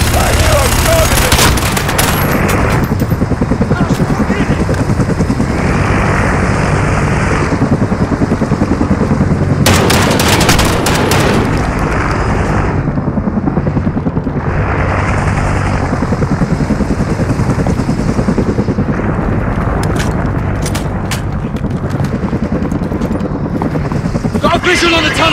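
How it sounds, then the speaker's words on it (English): Helicopter in a Call of Duty: Modern Warfare battle, its steady rotor roar running the whole time beneath dense gunfire, machine-gun bursts and shouted voices. "That helo will tear us apart!"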